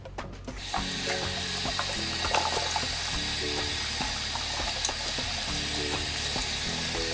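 Tap water runs steadily as a wig is rinsed out, a continuous close hiss with occasional small splashes and knocks, no talking.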